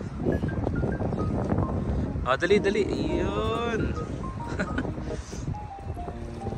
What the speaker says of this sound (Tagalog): So mahangin pa.